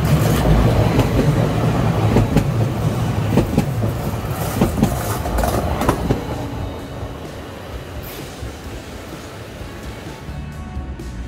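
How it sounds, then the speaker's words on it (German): A train rolls into a station with a loud, continuous rumble and clattering wheels, gradually easing and fading as it slows to a stop. "So wie es aussieht, kommt da jetzt an ein Zug."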